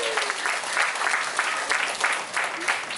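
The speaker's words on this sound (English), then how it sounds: "So let's give a big round of applause for all the women here tonight" A rally crowd at Farrington High School claps warmly for the women present, a thick continuous wash of hands with slight swells and no voices standing out.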